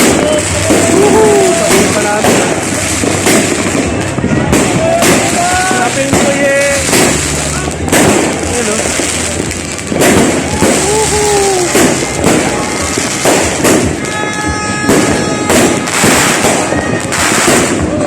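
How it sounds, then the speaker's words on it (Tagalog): New Year fireworks and firecrackers burst repeatedly during a year-end celebration in the Philippines, dense crackling pops and booms over cheering voices and chatter, loud and close throughout. "maraming nagpaputok ngayon"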